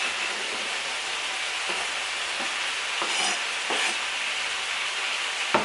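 Onions sizzle in a hot pan as they go in alongside partly cooked food, with a steady frying hiss and a few scraping stirs heard close up and no voices.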